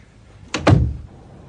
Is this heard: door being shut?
yes